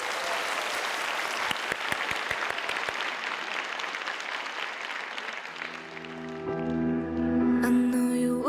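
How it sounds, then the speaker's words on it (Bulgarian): Audience applause for young female singers at a comedy-and-friends stage show, a dense steady clapping wash for about six seconds that fades as a sung melody with instrumental backing begins. "Моля вашите още по-силни аплодисменти за прекрасните, че и млади певици"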